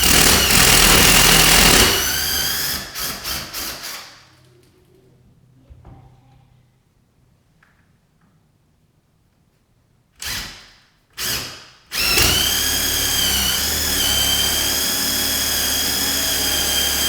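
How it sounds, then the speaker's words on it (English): A power drill with a 3/16 bit bores holes in a wall for mounting a flatscreen, giving loud, harsh whirring bursts up close. A long sustained run is followed by short stuttering pulses, then a quiet gap, two brief revs and another long steady drilling stretch. "we'll use the same 3/16 drill bit to drill our remaining holes now"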